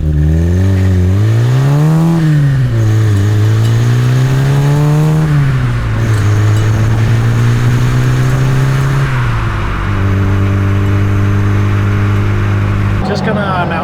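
A modified Autobianchi A112 Abarth engine, warmed up, revs hard through the gears in a quick acceleration run, loud and close, with the engine note climbing, dropping at each shift and climbing again.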